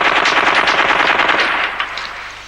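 Loud, rapid machine-gun fire from a film, a dense burst of shots that tapers off near the end.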